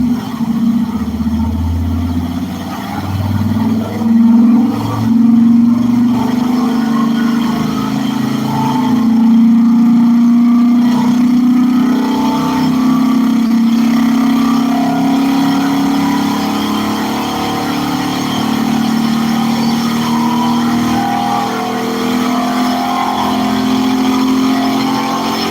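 Engines of race cars, including a Miata and a Land Rover, rumble and rev at a live race event, with a loud, continuous drone that rises and falls over the full length.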